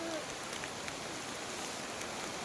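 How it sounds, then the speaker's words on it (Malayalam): Heavy rain falls in a dense, steady hiss with scattered droplet patter, continuous and fairly soft throughout. "നല്ല മഴ"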